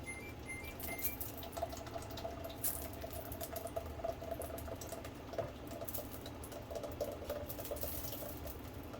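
Broth for mild pozole rojo is poured through a strainer into a pot, giving a faint, steady trickle and bubbling splash with small drips, no talking.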